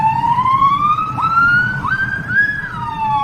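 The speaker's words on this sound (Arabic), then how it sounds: "يا مياو يا مياو، هكلم الإسعاف." A loud, close emergency siren wails in a steady rising-and-falling sweep for the whole stretch, with no talking over it.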